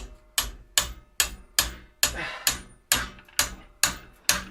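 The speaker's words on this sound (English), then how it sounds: "This hammer is getting really heavy." About ten sharp hammer blows on a pressed-in bicycle bottom bracket at a steady, unhurried pace, each a loud ringing metal clang that fades before the next strike.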